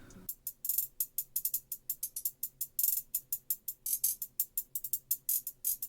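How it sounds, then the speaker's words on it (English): Rapid programmed hi-hat pattern for a hyper-pop beat, crisp ticking hits whose loudness jumps around from stroke to stroke, with panning swinging left and right, playing alone in a steady, busy rhythm for about six seconds. "I made the velocity, like the volume of the hi-hats go everywhere, the panning going left and right, going all over the place"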